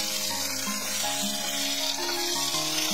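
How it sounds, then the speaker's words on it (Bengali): Tomato and peanuts frying together in a pan make a steady sizzle with a bright crackling hiss throughout, with tonal layers running beneath it. "টমেটোর সঙ্গে সবগুলো একসঙ্গে ভালো করে একটু ফ্রাই করে নিতে হবে।"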